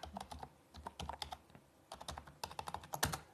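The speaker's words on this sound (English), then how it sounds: "That typing you hear is me logging in." Rapid typing on a keyboard while logging in, dense clusters of crisp, close keystrokes in uneven bursts with brief pauses, faint overall and with no talk.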